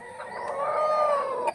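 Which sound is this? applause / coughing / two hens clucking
two hens clucking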